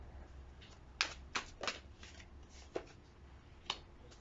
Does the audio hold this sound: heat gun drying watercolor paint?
no